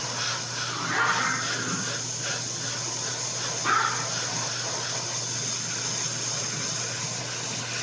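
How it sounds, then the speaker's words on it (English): An airbrush sprays Mr. Color 59 orange paint in a steady, close, even hiss over a low constant hum, with a couple of slightly brighter bursts partway through. "we're going to kind of spray over this slightly"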